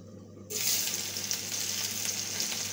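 Chopped onions hit hot oil for mutton kosha, bursting into a loud, steady sizzle after a quiet moment and crackling on continuously up close.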